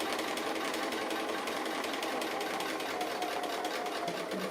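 A sewing machine stitches applique with thread, a fast steady mechanical whir and rapid needle clatter running continuously and close by, with no talking.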